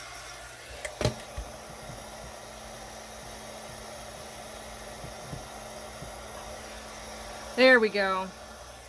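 A heat tool runs close by with a steady, airy blowing drone as it warms embossed stamping foam. A short spoken phrase breaks in near the end.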